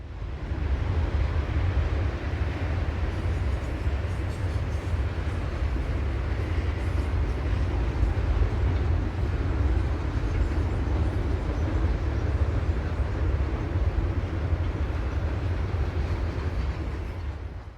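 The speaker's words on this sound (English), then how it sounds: "An eastbound Santa Fe piggyback train splits the wind on the track above" An eastbound Santa Fe piggyback freight train rolls past on an elevated Burlington Northern track at Cameron, Illinois, a steady, loud, continuous rumble and wind-rush holding without a break.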